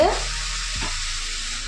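Papaya curry with lentil fritters is stirred in a pan over low heat, a soft continuous sizzle with one scraping stroke of the spoon, close and alone.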